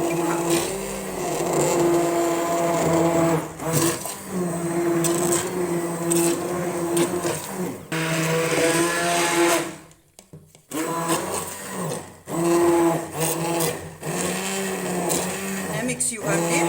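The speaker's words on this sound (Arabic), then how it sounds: "ميكسيوها مليح" A blender purees vegetable soup of sweet potato and fennel, its motor whirring loudly with a steady tone, briefly stopping once midway before starting again, while someone talks over it.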